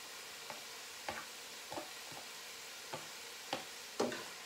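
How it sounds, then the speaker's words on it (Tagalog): Chopped onion frying in a pan for a pasta dish: a soft continuous sizzle with a handful of sharper stirring scrapes and ticks spaced irregularly, close and moderately quiet, with no talking. "Uunahin ko yung onion para maluto."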